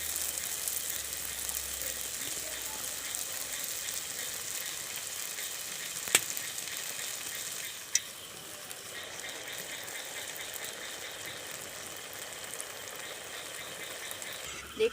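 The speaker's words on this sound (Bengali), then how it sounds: "তেলটা গরম হয়ে গিয়েছে, এবার আমি জিলাপিগুলো ভেজে নেব" Jalebi frying in hot oil in a wok, a constant dense sizzle throughout with a couple of sharp clinks from utensils.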